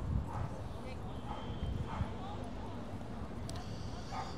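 Dogs at a Manhattan dog park in Madison Square Park, New York City, give a few faint, distant barks and yips under someone talking, with a steady outdoor city hum behind.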